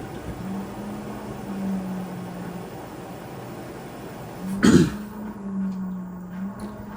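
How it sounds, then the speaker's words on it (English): A single short throat clearing, close and fairly loud, over a low steady hum from a nearby LG WM4000HWA front load washer. "Excuse me clearing my throat a lot."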